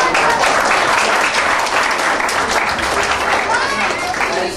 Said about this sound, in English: Clap your hands if this is the poster.